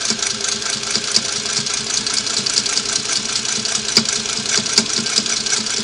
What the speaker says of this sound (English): you can do what I call freehand sewing, in forward or reverse